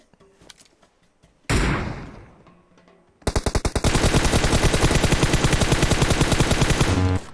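PUBG Mobile gunfire: a single loud blast with a decaying tail, then a sustained rapid burst of automatic fire rattling on for several seconds.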